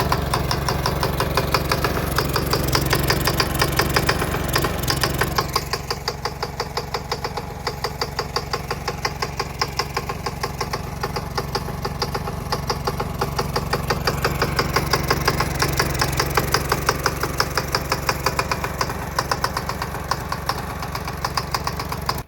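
Small gas lawn mower engine running on diesel fuel, a steady rapid knocking chug with a slight change in tone partway, loud and close, with no talking.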